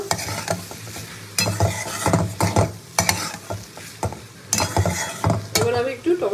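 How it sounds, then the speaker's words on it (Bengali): A spoon stirs vegetables into rice in a hot pan, with repeated scraping strokes in an uneven rhythm over a soft sizzle, close up and with no talk. "ভালো করে ভাতের সঙ্গে মিশিয়ে নেবো সবজিগুলো"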